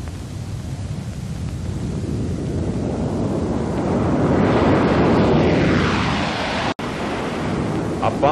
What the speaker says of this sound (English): The Stratojet was all set to try its wings